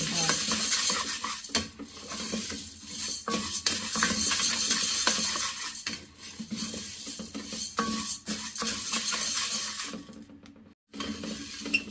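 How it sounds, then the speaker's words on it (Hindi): Chana dal roasting in a pan while being stirred, with steady scraping and clinking of a utensil against the metal, loud and continuous with brief pauses and no talk. "साफ़ करने के बाद अब इसको मैं कोई 5 मिनट भूनूंगी"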